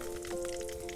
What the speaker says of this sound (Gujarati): તેલ ગરમ થઈ ગયું છે તો રાઈ નાખી દઈશું.